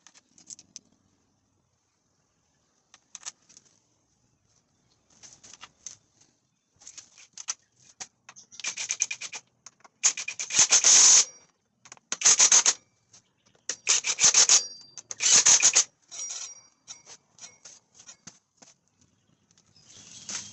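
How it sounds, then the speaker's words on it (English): A wire wheel scrubs rust and grime off Yamaha WR400F motorcycle parts in a series of short, harsh brushing passes. The passes start faint and sparse, then grow louder and more frequent, with brief gaps between. "Clean up on the wire wheel and a bit of never sees."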